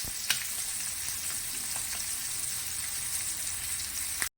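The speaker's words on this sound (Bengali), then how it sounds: "এবার আমি এখানে ইলিশ মাছটা ভাজবো" Hilsa fish frying in hot oil in a home kitchen, a steady crackling sizzle with a few sharper pops, fairly quiet and continuous with no voices.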